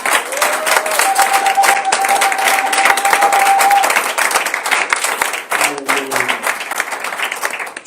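Church congregation at a Sunday service applauding the Lord, dense and loud sustained clapping from a large crowd, with a tonal hum and some voices mixed into the roar.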